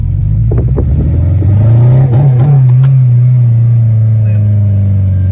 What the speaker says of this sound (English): we're gonna hit it for a pass and it'll go into VTEC